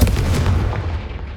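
Confringo spell explosion in Hogwarts Legacy, a single loud low boom at the start that rumbles and fades over about a second.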